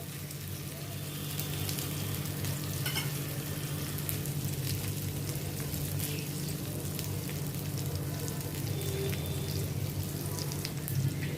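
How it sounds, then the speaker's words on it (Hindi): Pieces of arbi (taro root) fry in hot oil on a gas flame set medium to high, a steady dense sizzle with faint crackles running evenly throughout with no break. "अभी ये ऑयल गर्म हो गया, इसमें मैं अरबी ये फ्राई करने के लिए डालती हूँ।"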